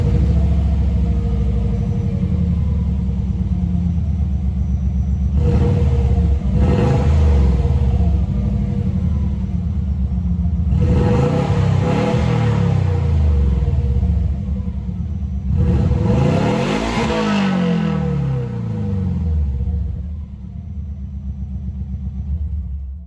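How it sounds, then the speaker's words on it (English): An unmuffled engine of a Subaru B4 idles with a loud, raw rumble, revving up three times in swelling bursts before settling back; no talking. "I'm gonna go ahead and do a startup with no muffler."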